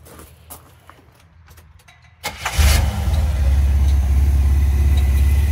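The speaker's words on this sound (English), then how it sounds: "it fires right up like it's nothing. The old Buick V6, she probably needs plugs." An old Buick V6 that had sat sunk in the ground, likely needing plugs and carburetor work, cranks briefly then fires and settles into a loud, steady idle close by.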